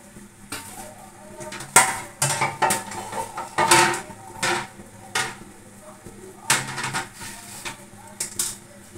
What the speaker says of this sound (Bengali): এবার চাটা ছেঁকে নিচ্ছি